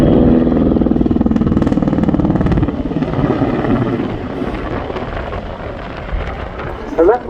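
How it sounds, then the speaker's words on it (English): A camouflage military helicopter flies a display at the RIAT airshow, making descending spiral turns. Its rotor throbs loud and steady throughout, easing slightly as it moves away. "On board the camouflage helicopter is co-pilot First Lieutenant Katerina Kardosova and flight engineer, Warrant Officer Radek Svetlik."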